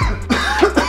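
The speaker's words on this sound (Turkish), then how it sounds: "Ben de böyle boşluğa doğru öksürüyorum." A person gives one short, close cough inside a training aircraft cabin, followed by a few brief throaty hacks.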